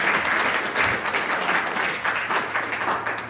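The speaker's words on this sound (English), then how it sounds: "Let's give him a very big round of applause." A crowd at a gathering gives a round of applause, with dense, steady clapping that stays moderately loud for the whole stretch.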